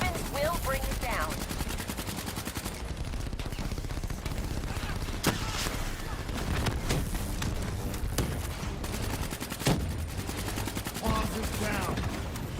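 Rapid gunfire in the video game Call of Duty: Black Ops III, sustained automatic bursts with sharp individual shots punching through dense combat noise, while voices speak over the action.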